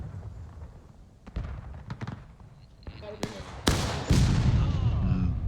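Artillery cannons fire in the Civil War video game War of Rights, scattered distant thumps building to several sharp, loud booms near the end.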